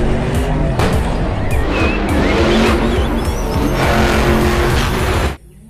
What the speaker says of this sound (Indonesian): Ini adalah mobil monster.